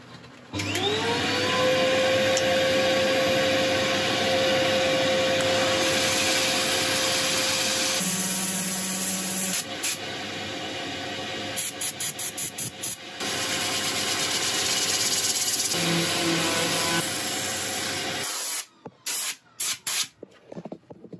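A steady, loud whirring hiss of wood being sanded on a spinning lathe runs continuously with occasional shifts in pitch and brief interruptions near the end.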